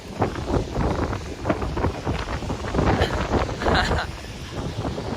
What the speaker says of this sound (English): Well, the wind is picked up quite a bit.